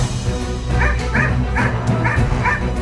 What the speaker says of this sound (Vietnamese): Sủa lắm thế, điếc cả tai.